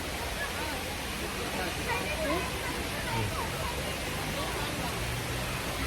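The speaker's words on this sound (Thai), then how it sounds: "น้ำตกไซโยก น้ำตกไซโยกน้อย" Sai Yok Noi waterfall in Sai Yok National Park, Kanchanaburi, as a steady broadband rush of falling water that holds evenly from start to end, with faint voices mixed into the roar.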